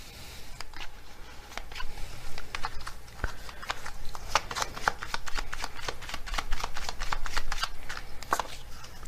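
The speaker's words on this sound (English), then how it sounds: "let's get some more tarot cards here." Tarot cards being shuffled close up, a steady run of crisp riffling clicks and flutters that continues for several seconds with no talking.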